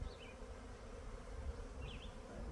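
Honey bees hum and buzz around a hive being moved into a duplex, a steady low drone close by with a couple of brief higher whines as individual bees fly past.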